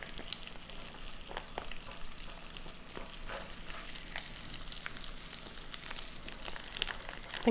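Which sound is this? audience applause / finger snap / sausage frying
sausage frying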